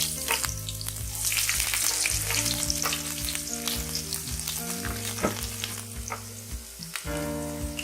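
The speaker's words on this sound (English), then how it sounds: "once cumin seed is roasted, add garlic" Cumin seeds and garlic frying in hot oil for a dhaba-style chana dal tadka, a dense steady sizzle with frequent spoon-stirring clicks and scrapes, close and continuous, while tonal music plays underneath.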